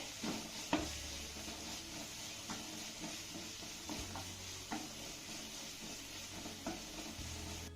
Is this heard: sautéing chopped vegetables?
yes